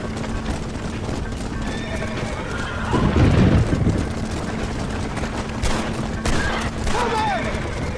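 Gunfire in Red Dead Redemption, scattered shots and a louder burst of fire mixed with horse whinnies and hoofbeats, with voices talking over the game.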